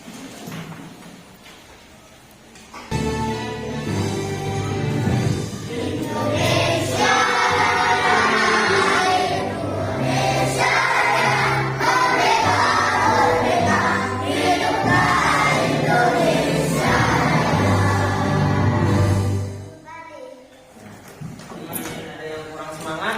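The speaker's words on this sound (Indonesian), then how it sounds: "Kita akan menyanyikan Indonesia." A school class sings the Indonesia Raya national anthem together in unison, a loud sustained group of voices running for about sixteen seconds after a quiet start and fading off near the end.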